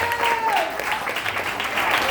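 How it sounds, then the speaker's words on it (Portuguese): A church congregation claps in praise during a worship service, a steady rush of hand claps with a faint voice or tone briefly sliding through at the start. "As palmas para louvar o Senhor."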